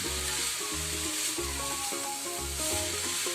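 A milk mixture stirred in a pan on the stove for Bangladeshi dudh puli pitha, a continuous soft sizzle and stirring hiss under steady background music with a repeating bass pattern, no voices.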